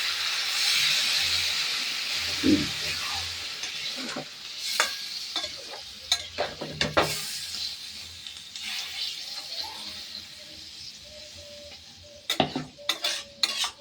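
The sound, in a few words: meat being sautéed and stirred in a pan (kosha)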